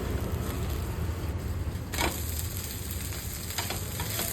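An onion dosa cooks on a hot pan with oil or ghee, sizzling steadily at close range, with a brief louder crackle partway through and a few faint scrapes, with no talking.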